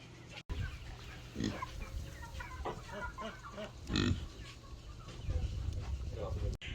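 Chickens cluck and call on a homestead, with a rooster-like call among repeated close clucks over steady background noise, and people are faintly heard talking.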